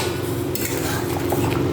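A lid clatters onto a metal pot of simmering Malabar spinach (pui shak) in a home kitchen, one short metallic clink over a steady background hum.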